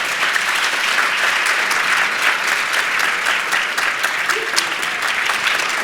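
A large audience gives a panel loud, sustained applause, a thick wall of clapping that holds steady from start to finish.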